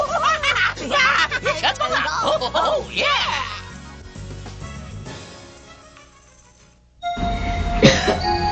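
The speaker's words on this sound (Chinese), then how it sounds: "你怎么一直在咳嗽嘞？" A cartoon child coughs and clears their throat in a quick series of short bursts over background music, followed by a pause and then spoken dialogue.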